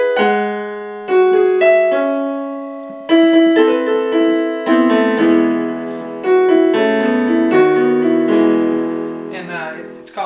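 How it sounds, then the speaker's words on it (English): Solo piano plays the intro of a song from the movie Enchanted, slow sustained chords and melody notes entering in separate phrases, each swelling then decaying, with no voices. "So let's get started on the intro here on the piano."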